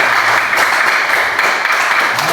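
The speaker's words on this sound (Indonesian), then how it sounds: "Iya, kita tepuk tangan." A classroom of people applauds together, a dense, even burst of clapping that holds steady and loud from start to finish.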